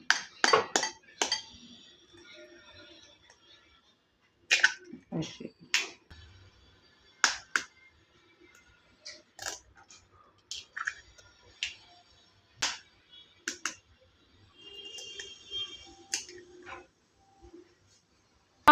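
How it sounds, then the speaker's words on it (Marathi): Three eggs whisked for a flour-and-egg cake batter, heard as quick bursts of sharp clicking taps against a bowl, separated by short pauses, close and alone. "सगळ्यात अगोदर आपल्याला अंडे फेटून घ्यायचे आहेत."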